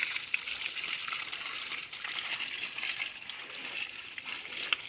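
Water splashes and sloshes as someone bathes in a village stream, a continuous close wash of splashing with a few sharper slaps.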